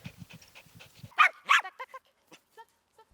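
A dog at an osteopath session pants in quick, soft, rhythmic breaths up close. A few louder, higher whimpering or whining sounds follow, then sparse quiet breaths.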